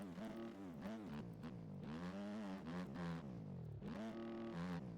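A dirt bike in the motocross game MX Bikes, its engine buzzing loudly and continuously with repeated rises and dips in pitch as it revs and shifts gears, no talk.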